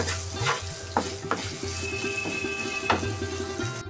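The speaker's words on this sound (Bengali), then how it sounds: "ভাজা ভেন্ডিটা দিয়ে একটু মশলার সাথে নাড়াচাড়া করে নিচ্ছি" Fried okra being stirred with spices in a pan for moong dal, with loud close sizzling and several sharp scrapes and knocks of a spatula against the pan.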